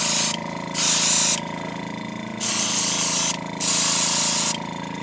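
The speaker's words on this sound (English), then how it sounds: "I'm just going to spray some and see what I think." A sprayer putting out a thinned coating in three separate bursts, each a loud, even hiss lasting about half a second to a second, with a low mechanical hum running underneath throughout.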